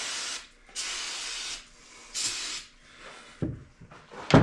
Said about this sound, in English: I'm going to take a little carb cleaner and some air, press the air, and blow this out before we reassemble